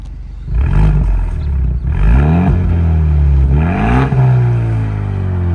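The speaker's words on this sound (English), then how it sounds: "You can hear the exhaust open up each time again." A stock 2024 Ford Mustang EcoBoost revs hard three times in sport mode, each roaring climb in pitch falling back as the quad exhaust opens, with a steady deep exhaust rumble between bursts.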